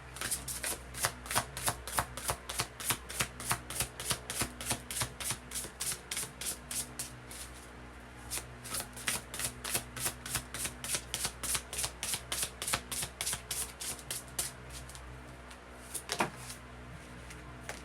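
Tarot cards being shuffled for a reading, a long run of quick, crisp riffling flicks in steady rhythm, close and fairly loud, with a brief pause partway through and no talking.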